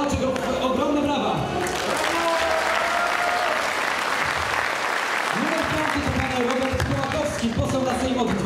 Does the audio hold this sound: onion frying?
no